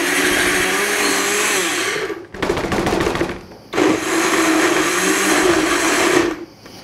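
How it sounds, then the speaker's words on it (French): A food processor blends a lemongrass-scented sauce in loud, whirring bursts: one long run, a short rattling pulse, then another sustained spin before it stops. "Alors si je mélange mon robot"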